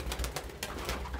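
Pigeons coo in a loft, several soft, low, throaty coos repeating in short bursts close by over a quiet background.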